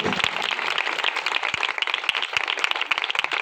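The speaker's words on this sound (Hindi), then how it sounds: "सो यीशु शाफी के लिए जोरदार तालियां बजाएं।" A congregation claps for Jesus at a church service, steady dense clapping with occasional louder sharp claps, heard at moderate distance.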